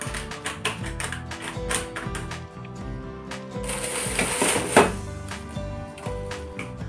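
Two cups of cornstarch are stirred in a bowl for maja blanca, giving a quick, regular clicking and scraping of the utensil against the bowl that carries on throughout, close and fairly loud, with no voices.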